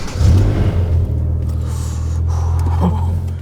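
A family saloon's V10 engine revs up from idle in a strong, close low rumble that holds a steady deep drone, with a brief higher sound near the end.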